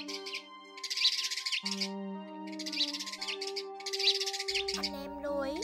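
Recorded sparrow calls played back as a trap lure, a mix of tree sparrows, white sparrows and larger sparrows, carry bursts of busy chirping and tweeting over steady tonal hums and whistles, repeating in a looping pattern.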